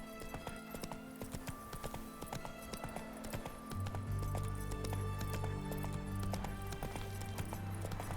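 Roach the horse gallops in The Witcher 3 with rapid, rhythmic hoof clip-clops, while a low drone and background game music swell in the second half.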